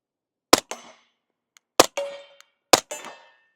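Suppressed 9mm subsonic rounds, Remington 147 grain full metal jackets, are fired through an Accuracy X AXE-34 suppressor into a berm. Three sharp, close, muffled reports ring out about a second apart, each followed by a short metallic rattle that quickly dies away.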